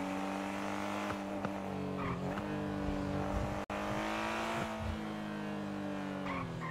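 A worn-handling Silver sports car driven in GTA roleplay on a NoPixel 4.0 server, its engine humming steadily and close with a brief skid and tire squeal, constant throughout with no talk.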